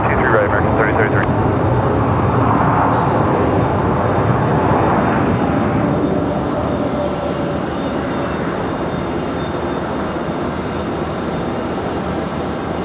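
A Frontier airliner arriving from Orlando at Raleigh-Durham International Airport makes a steady, broad jet roar. The roar stays loud throughout and eases slightly after the midpoint, like an aircraft taxiing or rolling nearby.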